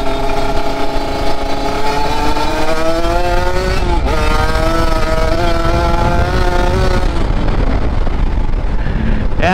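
A Kawasaki Ninja RR with a VM28 setup and filter pulls loudly and close in second gear. Its engine note climbs steadily, dips briefly midway, then keeps rising before easing off, with wind rushing underneath.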